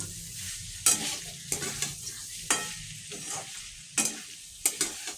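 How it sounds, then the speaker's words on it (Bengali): Bottle gourd and prawn curry with slit green chillies being stirred in a pan, a soft sizzle underneath and several distinct scraping strokes of the spoon at irregular intervals, close by with no talking. "এবার আমি কাঁচা লঙ্কা দিয়ে দিচ্ছি, চেরা কাঁচা লঙ্কা।"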